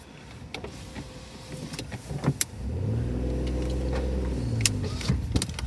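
A car drives slowly around a cemetery in Blackpool, beginning with a few interior clicks and knocks before a low engine hum sets in and holds steady close by.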